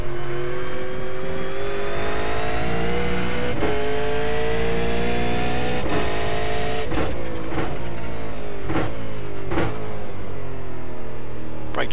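V8 race car in the iRacing sim at Donington, engine note steady and loud with rising harmonics, then a series of sharp blips as it downshifts through the gears, each gear change marked by a brief break and pitch drop.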